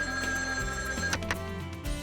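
A telephone ringing indoors, its bell-like tone sounding clear and steady for about two seconds with no talking over it.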